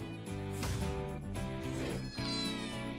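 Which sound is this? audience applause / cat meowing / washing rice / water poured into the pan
cat meowing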